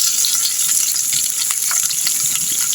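Chopped onions and garlic frying in a pan for a pothupala curry make a loud, close, continuous sizzle with crackling spatter and no voices.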